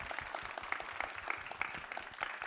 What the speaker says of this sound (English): So a round of applause to yourself